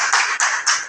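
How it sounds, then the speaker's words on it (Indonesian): A short burst of hand clapping from a teacher-training class, bright and dense, rising in a few quick swells. "Ya, tepuk tangan."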